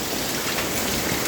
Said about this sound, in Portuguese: Chuva de granizo, de vento.